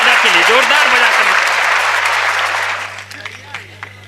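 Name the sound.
audience applause at poetry recital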